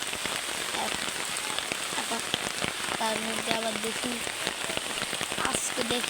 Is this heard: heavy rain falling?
yes